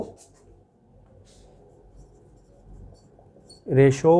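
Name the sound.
writing during a business mathematics lesson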